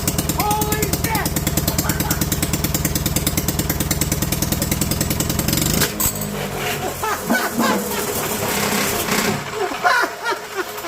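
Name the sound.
Honda GX200 engine running with wooden laser-cut connecting rod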